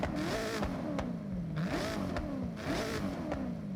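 Dodge Viper V10 engine swapped into a Dodge Ram SRT10 truck in Forza Horizon 6, revving hard in three repeated rising bursts that each climb and fall back, loud and close with no talk.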